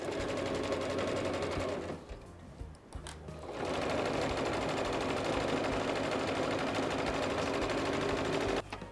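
Sewing machine stitching a side seam on fabric, a rapid loud mechanical chatter that runs steadily, pauses briefly for a second or so, then resumes and runs on.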